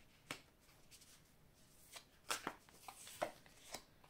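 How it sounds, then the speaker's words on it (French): Tarot cards being drawn from a deck, quiet close-up snaps and rustles of card stock in an irregular series of short bursts. "je vais prendre 3 cartes ici"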